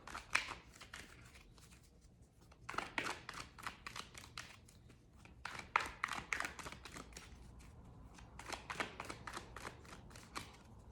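Tarot cards being shuffled by hand in rapid bursts of crisp riffling flutters, repeated several times with short pauses between, close and fairly quiet, with no talking.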